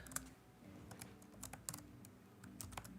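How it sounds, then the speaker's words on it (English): Keystrokes on a computer keyboard while entering a street address, fairly quiet with uneven clusters of clicks and short pauses over a low background hum. "Yes, I'm looking at my keyboard when I type."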